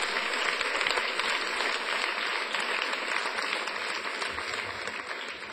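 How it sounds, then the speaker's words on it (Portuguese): Continuous congregational applause during a Portuguese-language church sermon, a broad even wash of clapping that fades slightly toward the end. "Dê um aplauso ao Senhor."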